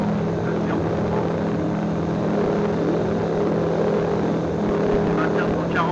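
A tailwheel light airplane climbs just after takeoff, its propeller engine holding a loud, steady drone with a constant low hum and buzzing overtones throughout.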